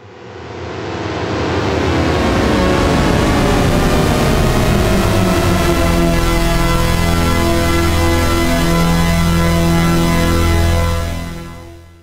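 A THX Deep Note recreation synthesized in Native Instruments Massive: a swelling cluster of gliding tones rises out of noisy texture and converges into a loud, sustained chord, which holds and then fades out at the end.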